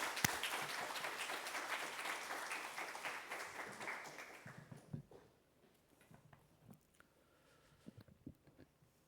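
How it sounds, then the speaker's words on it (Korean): Church congregation applauding to welcome a pastor to the pulpit at an Easter Sunday service, a dense, loud clapping that fades out after about five seconds, followed by quieter scattered sounds. "나오실 때 우리 환영하는 마음으로 박수로 크게 환영해 주시기 바랍니다."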